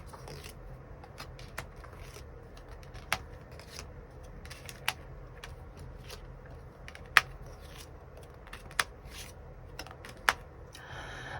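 Tarot cards shuffled and drawn during a reading, a soft continuous papery rustle punctuated by several sharp card snaps or taps spaced a second or two apart, quiet and close with no talking.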